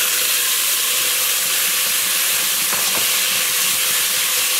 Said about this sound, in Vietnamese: Mình cho cà chua vào